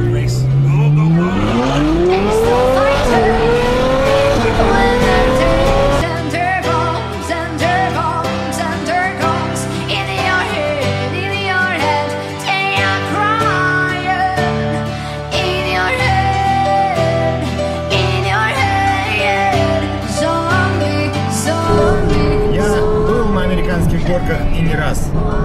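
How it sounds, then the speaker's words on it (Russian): A Ferrari sports car races flat out with a Mustang close behind, its engine loud and rising in pitch through the gears, with tire noise and a voice talking over the roar throughout. "За нами на хвосте сидит Мустанг, и мы просто наяриваем нереально быстро"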